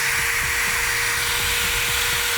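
A cheap rotary sander that spins in one direction without oscillating runs continuously, a loud steady motor whine with a constant high-pitched tone and rough buzzing underneath, close and alone.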